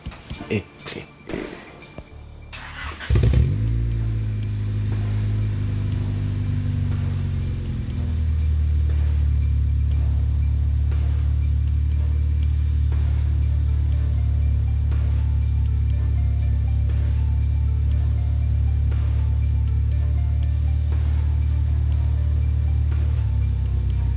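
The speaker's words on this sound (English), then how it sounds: "You might be able to hear that, like, kind of like a scraping noise." A Honda Civic del Sol with a faulty throw-out bearing starts up after some nearby handling noises, then idles close by in a steady, loud low drone. A faint scraping is likely mixed into the engine note.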